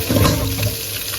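Onion and spices frying in hot oil give a loud, close, steady sizzling hiss for a brief moment, with no talking.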